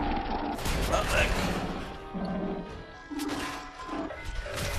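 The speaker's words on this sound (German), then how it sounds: "Oh nein, jetzt explodiert der auch noch." A robot explodes in Fallout 4 with a loud, dense smash and crash of debris, mechanical clatter and rattling fragments filling the whole stretch, surges at the start and again near the end.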